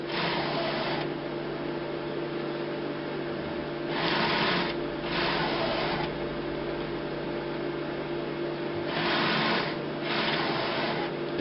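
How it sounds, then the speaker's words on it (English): The priming pump of an HP Designjet Z3200 printer pushes ink through its tubes in repeated bursts, about a second each and grouped in pairs, over a constant mechanical whine. Close, moderately loud, no talk. "The noise we can hear, that's the priming pump just pumping the ink through"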